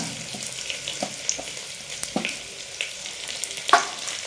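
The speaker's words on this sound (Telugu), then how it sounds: "ఇందులో తరిగిన ఉల్లిపాయలు కూడా వేసేస్తున్నా" Chopped onions fry in ghee in a pan for coconut milk pulao, giving a soft, steady sizzle with scattered light clicks and scrapes of stirring nearby.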